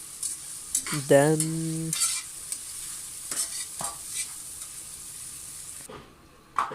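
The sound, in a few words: vegetables frying in a pan for an Afghani omelette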